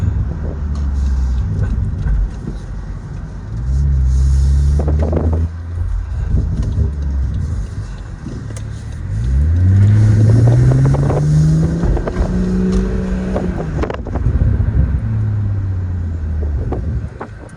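A BMW 440i Gran Coupe xDrive drives hard from inside, its engine droning loudly with rising and falling revs through gear changes and downshifts, wind noise steady over the mix.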